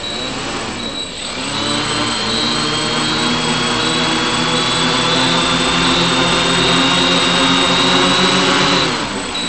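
Multiwii octocopter propellers spinning on a gyro-only test run, a loud steady whirring drone with layered tonal hums that rises in pitch as the motors spool up, then holds near and sustained before easing off at the end.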